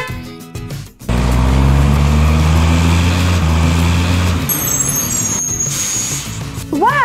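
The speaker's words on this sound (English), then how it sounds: "Wow, another garbage truck." A garbage truck's engine rumbles loudly and close as it passes on a street. A sharp, high air-brake hiss cuts in partway through, and the engine drone then fades slightly.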